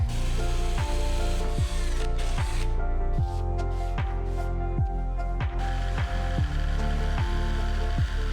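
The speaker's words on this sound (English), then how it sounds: "Drill all corner marked before." A power drill whirs steadily up close, its pitch dipping in a regular rhythm as the bit repeatedly bites into wood, drilling corner holes for a slot in a table saw station top.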